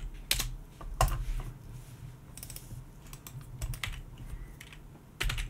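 Fingers tap a computer keyboard in quick bursts and short pauses, close and fairly quiet, with no voices.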